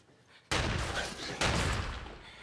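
Loud gunfire in a film shootout, with two sharp broadband blasts each followed by a lingering ringing, echoing tail, heard close and alone without talk.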